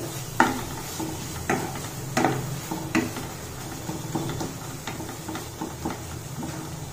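Coriander powder being lightly fried in oil in a pan for an Odisha-style mutton curry, a soft sizzle under repeated scraping and clinking of a spoon against the pan, close and fairly quiet, with no voices.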